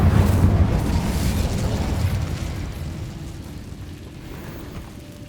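A fire spell blast in Hogwarts Legacy: a loud burst of roaring flame that starts strong and slowly fades into a low rumble.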